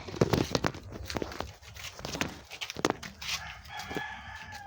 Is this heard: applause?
no